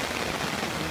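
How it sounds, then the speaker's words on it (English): Heavy rain pours down steadily in a rainstorm, a dense, even hiss of drops with no pauses, close and fairly loud throughout. "he's there in the rain"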